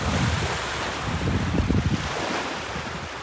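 Strong wind buffets the microphone on the beach of Lake Ohrid while waves wash ashore, a loud, continuous roar with surging swells and no voices.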